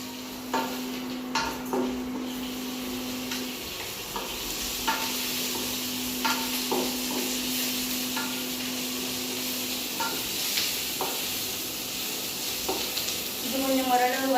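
Curry leaves and fennel seeds sizzling steadily in hot oil in a pan, with a spoon scraping and stirring in intermittent clinks close by, no voices.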